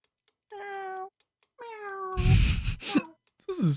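Cartoonish cats meowing in a Christmas-themed video game, two drawn-out tonal meows in separate bursts followed by a rustling thump and a further short meow, close and clear.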